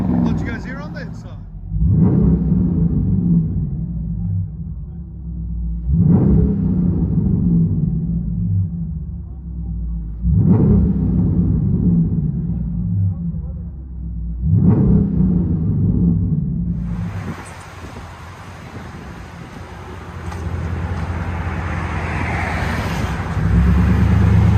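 Inside the cabin of a 2018 Dodge Durango R/T, the 5.7L HEMI V8 through Flowmaster Outlaw dual exhaust gives four deep rumbling revs over a muffled idle, then a hiss of cabin noise takes over.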